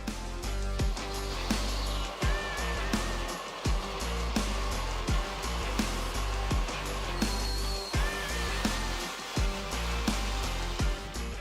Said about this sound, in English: Watch how smoothly the Norwood Lumber8 LM30 handheld circular saw cuts logs up to 76 cm 30 in diameter into boards up to 64 cm 25 wide.